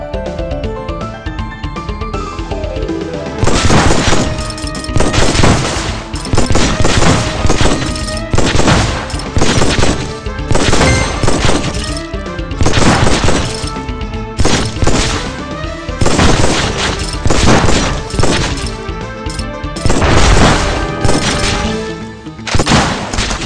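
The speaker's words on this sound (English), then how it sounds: "Shotgun!" Shotgun blasts in the Undead Squad mobile shooter game: loud, repeated booming bursts in irregular volleys over a constant dense game soundtrack, with no talking.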